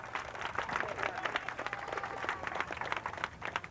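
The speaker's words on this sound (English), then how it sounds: "Give her a round of applause." Crowd applause at an outdoor police block party, a steady wash of many hands clapping for a councilwoman, moderately loud and continuous, with some chatter mixed in.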